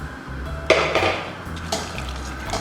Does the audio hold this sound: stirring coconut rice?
yes